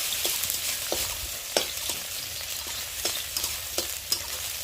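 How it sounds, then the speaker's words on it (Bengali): Chopped onion fries in a pan, a soft steady sizzle broken by repeated scraping clicks as it is stirred, close and moderately quiet. "এটা একটু সামান্য লাল লাল করে ভাজবো, যাতে নরম হয়।"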